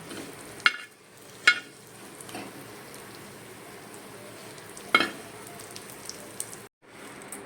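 Seven or eight dates fry gently in ghee, giving a soft, quiet sizzle broken by a few sharp clicks of stirring, then a brief silence near the end.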